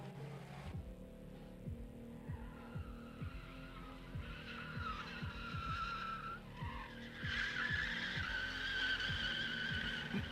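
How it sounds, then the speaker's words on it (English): A Mazda Miata drifts at a drift pit test-and-tune event. Its engine drones and pulses as the tires squeal and skid in long smeared screeches, building louder toward the end. "Miata Mike is back with a vengeance, hitting that pit with some speed"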